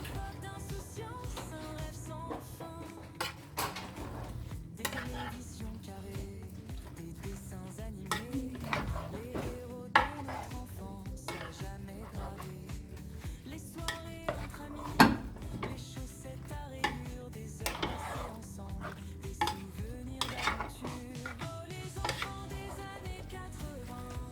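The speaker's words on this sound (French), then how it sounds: "je vais commencer à remuer mon plat" Chicken pieces and vegetables being stirred in a pot, with scattered metallic clinks and scrapes of a utensil against the pot over a steady low background.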